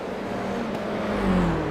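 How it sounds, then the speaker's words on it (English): A Toyota GR86 race car on the Long Beach street circuit, its engine note dropping in pitch as it slows, a steady near drone with a slight swell toward the end. "You could hear the revs drop."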